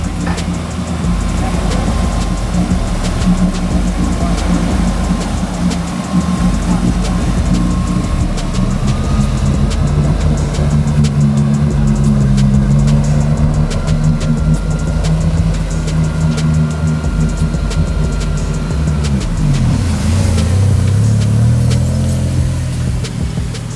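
Two H2O amphibious Panther cars with jet drive running on water, a loud, steady engine drone that holds throughout and shifts lower near the end.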